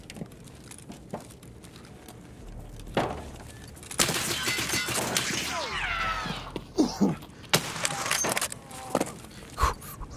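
VPO-215 bolt-action sniper rifle shots in Escape From Tarkov, several sharp cracks spread irregularly across the stretch among footsteps and scattered movement noises, with a busier burst of gunfire in the middle.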